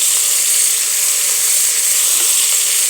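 Green chilies frying in a pan with oil while preparing a fish curry give a loud, steady, unbroken sizzle and hiss that lasts throughout.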